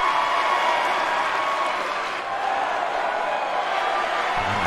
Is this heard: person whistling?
no